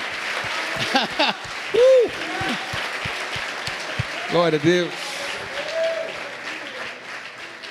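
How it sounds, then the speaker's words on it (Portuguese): Steady applause from a crowd runs throughout, with someone speaking over it and a few short exclamations rising above the clapping. "convidar você a aplaudi-lo bem forte"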